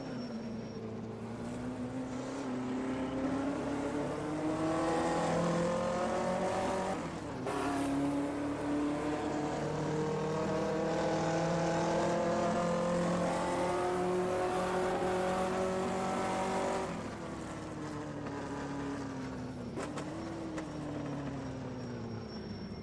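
Maserati and other 1958 Formula One race cars in a racing video game at the Portuguese Grand Prix hold a loud, continuous engine drone that rises and falls in pitch, with abrupt shifts near the seven- and seventeen-second marks.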